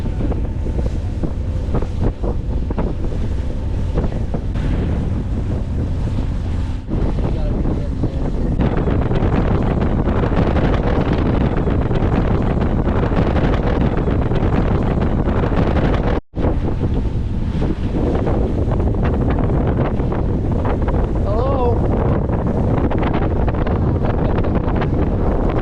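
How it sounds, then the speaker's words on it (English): Ferocious southwest wind on a sailboat traveling the intracoastal waterway from Amelia Island to St. Augustine, Florida, a loud continuous roar battering the microphone with water noise beneath it and a brief dropout partway through. "ferocious wind is out of the southwest"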